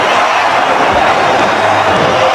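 A cricket stadium crowd roars for a wicket taken against Australia in a match with South Africa, a loud, steady wall of cheering that holds without a break throughout.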